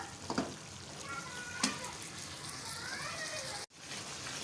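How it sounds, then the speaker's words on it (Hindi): Tomatoes and potatoes frying in a pan with coriander, a soft continuous sizzle with a couple of brief utensil clicks and scrapes, fairly quiet and close. "अच्छी तरह से भुनाई कर लें टमाटरों की और आलूओं की।"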